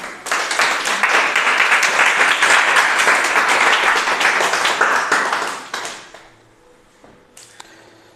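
Church congregation applauding at an evangelical service, a dense sustained burst of many hands clapping for nearly six seconds before fading out into near silence with a stray tap.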